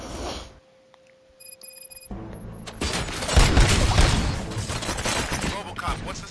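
Gunfire and crashing impacts in the RoboCop Rogue City video game, a dense loud burst of shots and booms that builds after a quiet stretch holding faint tones and music.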